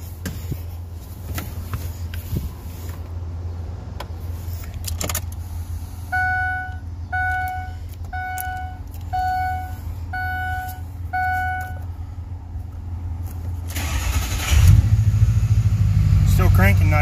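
A car engine in a shop cranks quickly and fires up near the end, loud and close, after a run of electronic chime beeps over a steady low idle hum.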